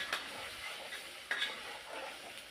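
Ginger-garlic paste being stirred into mushroom biryani masala in a pan, a soft scraping of the spoon with a faint sizzle and a few light clinks of utensil on metal, no talking.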